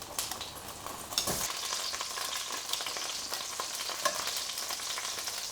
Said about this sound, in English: I'm just going to brown my scallops and my prawns because I just want the colour